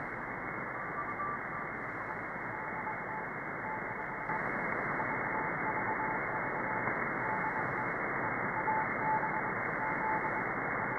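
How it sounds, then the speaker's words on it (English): A steady hiss of shortwave radio static in the 49-meter band fills the clip, with faint keyed tones beeping in short on-off bursts through the noise, Morse code sending VVV from station 4XZ. "if you hear Morse code, you might hear"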